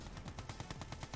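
Rapid, unbroken Gatling cannon fire from the real-time strategy game Command & Conquer: Red Alert 2 (Mental Omega mod), a fast rattling burst of shots at steady volume with no voices.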